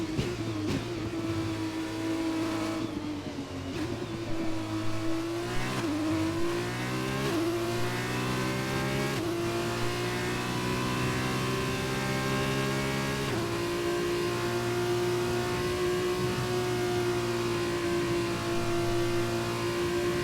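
Race cars in a racing video game give a sustained engine drone that climbs and shifts pitch through the gears. Layered engine tones keep running loudly throughout, with no pauses.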